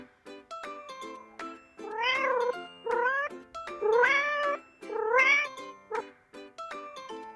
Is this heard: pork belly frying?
no